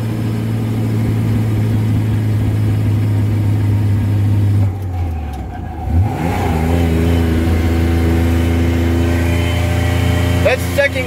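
A 1965 Ford F600 truck engine droning loudly while towing, its pitch dropping as the clutch goes in for the shift to second gear, then pulling back up steadily under load, with a person talking over it.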